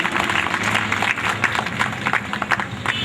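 An audience at a Delhi community awards ceremony applauds as an honour is presented, with dense, fairly loud clapping that carries on steadily for a few seconds.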